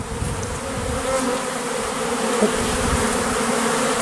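Steady, continuous buzzing of many honeybees close by during a package install into a hive, a dense droning hum that holds at an even loudness throughout with no talking.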